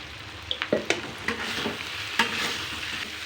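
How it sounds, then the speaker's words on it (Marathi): Green chili kharda sautés in plenty of oil, a continuous close sizzle broken by a quick series of sharp spatula knocks and scrapes against the pan, followed by a few more stirring clacks. "हा फक्त तेलावरतीच परतायचा भरपूर असं तेल टाकायचं"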